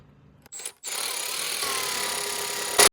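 Jeep JK rear license plate screw being backed out with a power driver on a U-joint offset adapter, a brief click then a steady two-second whirring run ending in a sharp louder burst.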